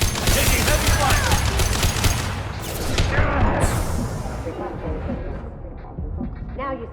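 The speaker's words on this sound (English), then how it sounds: "Open fire! Taking heavy fire." Heavy gunfire in Mass Effect 2, rapid sustained automatic bursts loud and close for several seconds, thinning toward the end, with combat shouts mixed in.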